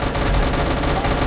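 Rapid gunfire in the Roblox game Da Hood, a dense, loud burst of shots packed into a second with no pauses.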